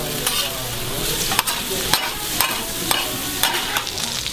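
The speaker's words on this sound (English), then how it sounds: "he mixed it with the onions, and it is still sizzling in its oil" Pork belly and onions sizzle loudly in oil on a hot stone. The crackle is steady and close, with periodic scraping bursts as the food is stirred.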